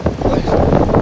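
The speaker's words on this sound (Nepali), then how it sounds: "अहिले यस्तो अचानक हावा पनि आइरहेको छ" Sudden strong wind gusts buffet the microphone on a hiking trail in Tennessee, a loud continuous rushing roar with no voices.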